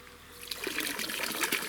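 Water trickles from drip irrigation onto damp soil under young plants being fed fertilizer, a steady close liquid dribble that swells slightly after the first half-second.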